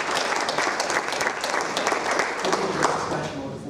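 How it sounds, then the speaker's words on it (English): An audience gives a final round of applause at a case study presentation event, dense steady clapping throughout, close and full, with some voices mixed in. "We need a last round of applause for our"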